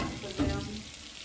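Salmon croquettes fry on their second side in a pan, giving a brief, steady sizzle with a soft knock near the middle.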